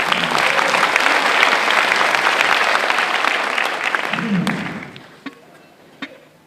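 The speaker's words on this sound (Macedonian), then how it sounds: "Айде на аплауз за отбор." An audience at a stand-up comedy show applauds loudly and steadily for about four seconds. The clapping then fades out, and a couple of faint thumps follow.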